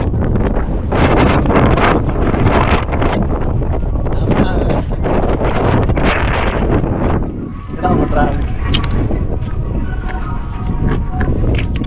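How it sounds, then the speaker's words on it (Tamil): Strong, constant wind blows on a hilltop, buffeting the microphone with loud, unbroken roaring gusts that barely ease for a moment near the middle. "ஜில் ஜில் ஜில் ஜில்னு காற்று அடிச்சுக்கிட்டே இருக்குதுங்க மேலே வந்ததுலேருந்து"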